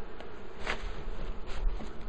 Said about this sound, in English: Can you brush off the bees first?